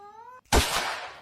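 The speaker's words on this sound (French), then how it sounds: "Ah, il miaule là." A cat gives a short, close meow, with a harmonic, voice-like tone, after a burst of sound and amid the room's background.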